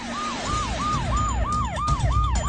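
An ambulance siren wails in a fast, repeating rise-and-fall pattern, loud and close with a rumbling engine beneath it and no voices.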